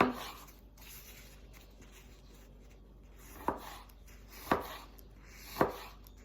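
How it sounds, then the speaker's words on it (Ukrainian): Fresh pitted apricots are chopped into small pieces on a board, three distinct knife thuds spaced about a second apart after quiet handling sounds, close and crisp. "помиті абрикоси, видаляємо кісточки, нарізаємо їх на невеликі шматочки"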